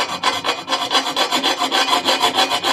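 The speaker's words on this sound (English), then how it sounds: "So use a file or grinder or whatever you got and get this edge nice and smooth." A metal file rasps back and forth along the inside seam of a homemade pulsejet tube, quick regular strokes close up and loud, with no voices.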